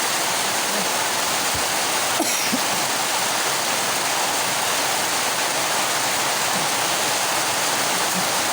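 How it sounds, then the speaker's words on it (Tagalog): Heavy rain pours in a dense, steady roar, loud and unbroken throughout, with faint knocks beneath. "Ingay ng ulan."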